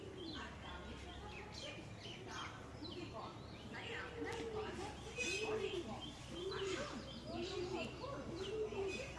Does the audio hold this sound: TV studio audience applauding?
no